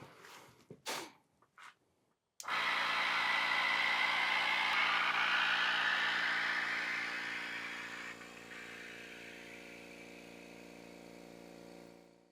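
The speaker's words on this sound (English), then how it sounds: "I let the pump run for a couple hours" A vacuum pump for veneer pressing clicks on after a few brief knocks and starts a steady droning hum with a whirring edge, loud and near at first, then easing slightly and holding even to the end.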